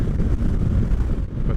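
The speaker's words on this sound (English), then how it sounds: "It's very windy, as you can probably tell from the trees." Strong gusty wind buffeting a motorcycle rider's microphone while riding a Honda PCX 125 in a crosswind, a loud continuous rumbling roar with brief dips, close and overwhelming, with no speech.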